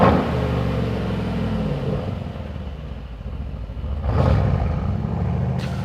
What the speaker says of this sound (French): on va aller essayer la voiture sur la piste